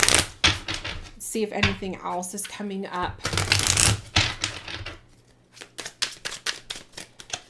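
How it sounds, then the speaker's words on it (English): Tarot cards being shuffled in quick riffling bursts, close by, with a person talking over and between the shuffles. "Let me go ahead and shuffle."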